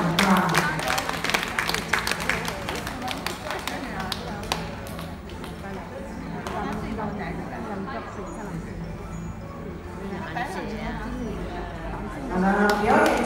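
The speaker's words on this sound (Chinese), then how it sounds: "给个掌声鼓励一下师傅" An audience claps at an outdoor snake show in Thailand after a handler catches a snake with his mouth, a steady patter of applause running under crowd chatter and a presenter's voice.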